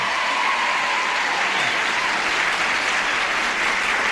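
Studio audience on the Match Game '75 game show breaks into applause, a full, steady wash of many hands clapping at even loudness throughout, fairly close and with no talking over it.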